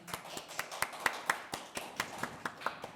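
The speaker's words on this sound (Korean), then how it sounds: "큰 박수로 맞아주시기 바랍니다" Audience applause greeting the moderator of a youth housing poverty panel forum, steady rhythmic clapping from a modest crowd with sharp individual hand claps standing out close by.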